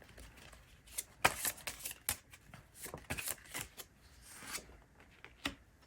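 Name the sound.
tarot cards being shuffled and drawn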